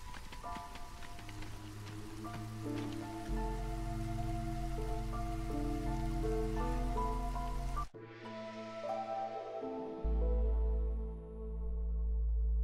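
Soft drizzle falls in the strategy video game Against The Storm as a faint, steady patter beneath loud layered game music.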